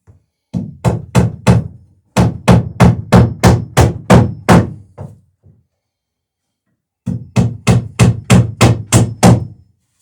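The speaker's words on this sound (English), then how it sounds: "So that's tacking the seat riser down good and tight." A hammer drives nails into a wooden seat riser on a Chamberlain Alpha Dory boat, sharp rhythmic close blows in quick groups of five to eight strikes separated by pauses, loud and clean with no talking.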